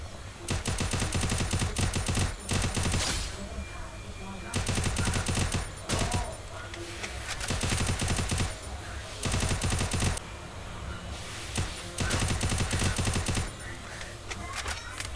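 Gunfire in the video game Free Fire: repeated loud bursts of rapid automatic shots in several separate volleys, with quieter gaps between them.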